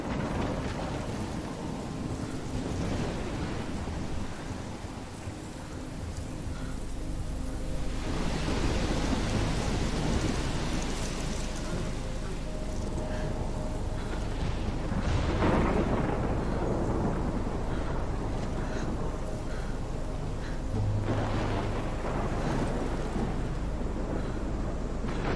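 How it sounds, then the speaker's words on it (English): A heavy thunderstorm in the video game Life is Strange: steady, dense rain roars throughout while deep rumbling thunder swells and rolls in several long waves, loud and enveloping, with no voices. "That is one huge storm"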